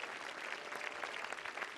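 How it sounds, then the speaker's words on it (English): Audience applause at a tennis exhibition match, a dense patter of many hands clapping continuously, fairly distant and faint throughout. "A round of applause."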